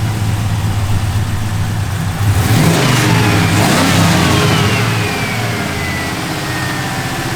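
A big V8 engine in a 1989 Chevrolet Silverado 1500 pickup, larger than the stock 5-liter, revs up hard, swelling to a loud roar, then settles back to a steady rumble with a faint rising whine.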